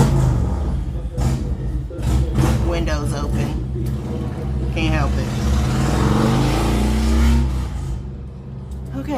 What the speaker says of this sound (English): sorry about the motorcycle